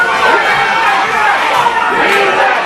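Dense, steady roar of an arena crowd at an IWC wrestling event, a continuous wash of shouting and chatter with scattered louder yells rising from the mass of voices.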